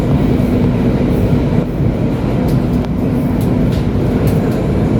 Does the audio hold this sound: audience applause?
no